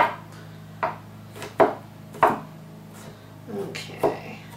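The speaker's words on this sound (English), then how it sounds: "We're going to take our knife and we're going to chop it roughly." Knife roughly chopping ingredients for a natural home remedy on a cutting board, about five distinct, fairly close thuds spaced unevenly over a few seconds against a low steady hum.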